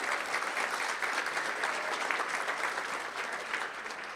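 Steady, full applause from a school board meeting crowd honoring students who performed a life-saving response, continuous dense clapping heard fairly close with no break.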